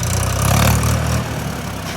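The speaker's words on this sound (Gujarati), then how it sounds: "ટ્રેક્ટર નહીં કહેવાનું યાર આ તો આપણો લાલ હાથી" A tractor engine idles close by, giving a steady low rumble for about two seconds.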